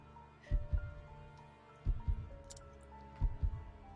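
A drum-like heartbeat in the game Octopath Traveler, faint, low double thumps repeating three times at an even, slow pulse beneath a soft sustained musical hum.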